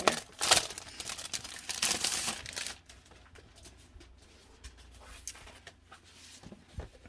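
Paper packaging of an Echo Park winter-themed sticker pack crinkles and tears close up, with a burst of loud rustling at the start that settles into softer, scattered handling sounds.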